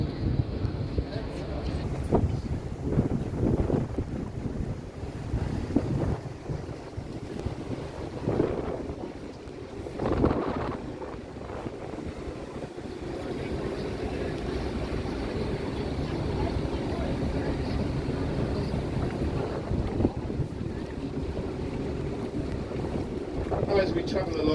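A double-decker tour boat cruises along a river on the Broads from Wroxham, its low engine drone continuous beneath buffeting wind noise, with a voice talking over the first half.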